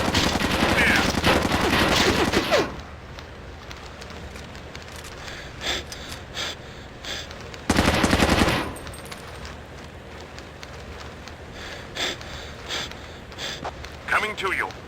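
Gunfire in Rainbow Six 3 on GameCube crackles in two dense automatic bursts, followed by scattered single shots and faint pops amid game ambience, with voices talking between the volleys.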